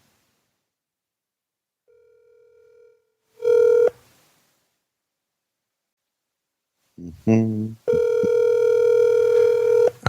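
A telephone call being placed: a brief tone, then a louder beep, a burst of touch-tone dialing and a long steady tone. The sounds are near and clear between stretches of silence, and one word is spoken.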